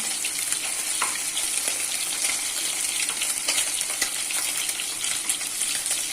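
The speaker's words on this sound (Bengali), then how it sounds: "মাছগুলো উল্টে দিচ্ছি।" Small fish being flipped in a wok of hot oil give a dense, constant sizzle with scattered sharper pops and spatter bursts, no talking over it.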